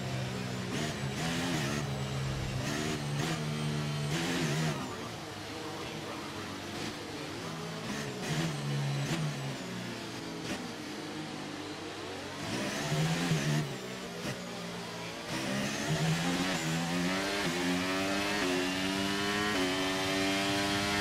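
Several race cars in F1 23 accelerate together at a safety car restart, with loud, continuous engine whine rising and shifting in pitch as they pull away, no talk.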